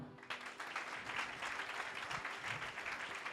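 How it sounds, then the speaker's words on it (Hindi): A church congregation claps steadily and densely for several seconds, a sustained wash of applause with no voices on top. "तालियां बजाओ फिर"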